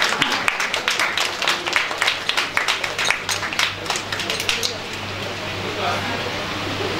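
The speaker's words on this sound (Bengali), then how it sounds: "হাততালি।" Applause from an audience at a university endowment prize distribution ceremony, a dense patter of many hands clapping steadily for several seconds before thinning into a softer wash of crowd noise.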